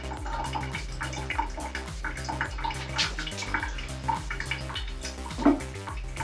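Acetone pours in a faint liquid trickle with small splashes and drips, measured out by the millilitre into a dichromate solution for sensitising carbon tissue.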